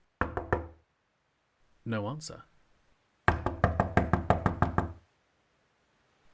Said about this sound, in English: Valouine was already knocking on the door